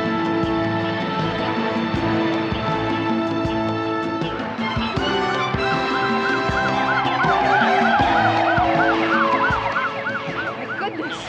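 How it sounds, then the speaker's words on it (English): Ambulance siren wailing in a city street scene from a police drama, loud and near, with steady tones giving way to a fast warbling yelp over traffic and music, no speech. "There's also an ambulance en route to 422 North Pine."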